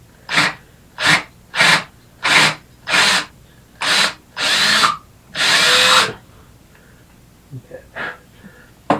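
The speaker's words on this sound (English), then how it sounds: "You don't have to go, you know, pressing or pulling the trigger and just drilling right down through." A power drill drilling out dowel pins runs in eight short trigger bursts, each longer than the last, loud and close, then quiet handling noises follow.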